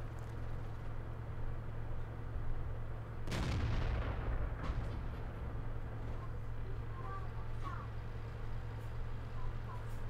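A single heavy tank cannon shot in World of Tanks booms out with a long rolling decay, set against a steady low engine rumble and quiet battlefield background.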